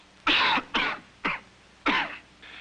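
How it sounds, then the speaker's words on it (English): Four loud, harsh coughs in quick succession, each a short rough burst separated by brief pauses, with no talking. "When congestion causes cough,"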